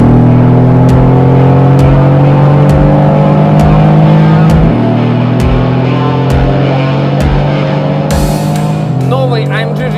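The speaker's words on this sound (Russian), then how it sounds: "Когда ты нажимаешь на этом автомобиле газ в пол," A Mercedes-AMG GT R V8 accelerates at full throttle, its loud, close engine roar climbing steadily in pitch through gear changes. It is heard from inside the car, with a brief burst of noise near the end.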